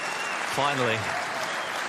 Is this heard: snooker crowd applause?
yes